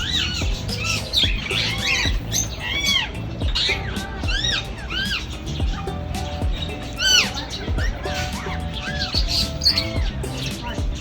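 Birds chirp and squawk repeatedly around an outdoor seating area on Balicasag Island in the Philippines, sharp rising calls and whistles overlapping close by over a low background murmur.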